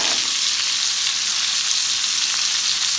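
Lollipop lamb chops and onion frying in a pan, a loud, steady, close sizzle with a continuous hiss and fine crackle.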